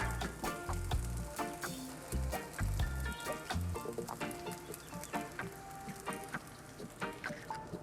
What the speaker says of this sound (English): Let's go ahead and drop a couple eggs down.